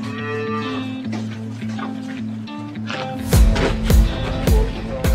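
Cows in an open cattle shed moo repeatedly in long, deep calls close by, followed by a few heavy thumps and sloshing sounds near the end.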